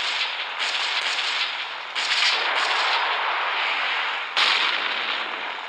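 Missile explosions in the video game Gunship Battle, a series of loud broad roaring blasts that swell and decay, with fresh bursts cutting in about every second or two over a continuous rumbling wash.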